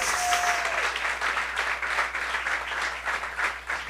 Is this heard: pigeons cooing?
no